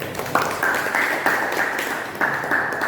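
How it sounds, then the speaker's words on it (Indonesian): A classroom of students claps for a classmate in a short burst of scattered, fairly faint applause, with individual claps audible throughout. "Tepuk tangannya buat Bayu."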